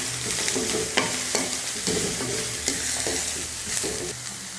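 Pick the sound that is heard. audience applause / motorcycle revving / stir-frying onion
stir-frying onion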